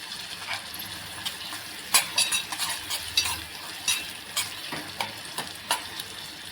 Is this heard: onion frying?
yes